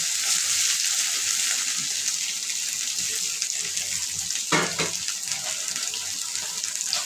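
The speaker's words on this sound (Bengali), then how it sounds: "আলুটা ভেজে নেব।" Potato pieces fry in oil with a dense, continuous hiss close by, broken once midway by a brief utensil clatter.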